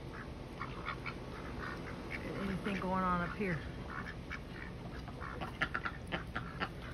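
Pekin ducks quack near a backyard flock that includes chickens, a burst of raspy calls in the middle over soft rain, with someone talking throughout.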